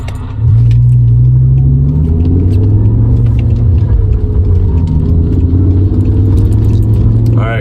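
A BMW M5 E60 in race mode pulls away hard from a standstill, its engine a loud, sustained low roar that holds steady and close throughout, with a faint rising whine near the end.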